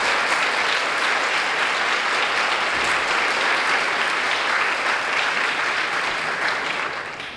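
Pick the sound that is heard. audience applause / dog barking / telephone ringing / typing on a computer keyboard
audience applause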